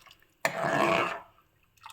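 Water is poured into rasam as it cooks, making a short, close splashing pour of about a second against a quiet kitchen background, with a faint trickle near the end.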